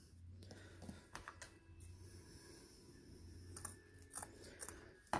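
Scissors cut material for a bow, giving a few quiet, close snips and crisp rustling clicks spaced irregularly over a faint room hum.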